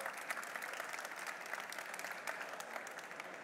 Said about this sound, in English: So count of three, big applause to Antón.